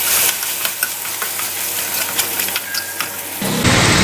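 Mutton chukka being stirred with fresh curry leaves and coriander leaves in a pan, giving a close, steady sizzle with scraping and stirring noises throughout.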